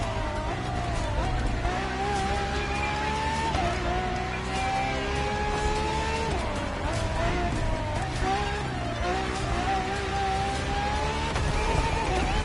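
A Ferrari FXX K supercar racing in The Crew Motorfest, its engine note rising and falling through gear changes in a loud continuous drone with tire noise, with no talk over it.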